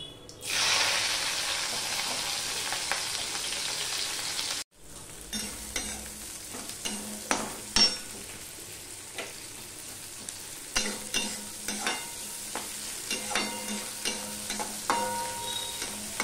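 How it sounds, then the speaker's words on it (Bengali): Onion is added to a pan of sizzling five-spice tempering, and a loud hiss and crackle follows the drop. Steady frying continues, broken by frequent scraping, stirring clatters and utensil clicks close by. "এবার আমি একটা বড় সাইজের পেঁয়াজ এখানে দিয়ে দিচ্ছি।"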